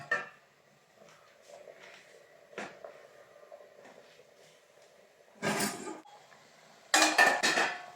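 Metal lid set down at a tilt on a cooking pot of homestyle Kerala manthal fish curry, giving two short, loud clattering knocks after a quiet stretch of faint kitchen noise.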